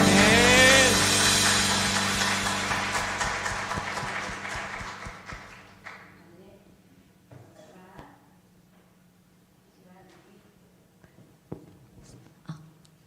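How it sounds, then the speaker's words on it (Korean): A church congregation at a Sunday afternoon service applauds, the clapping loud at first and gradually thinning and fading over several seconds, leaving only sparse scattered claps with some faint background sound. "우리에게 기쁨 주신 하나님께 영광 박수 올려드립시다."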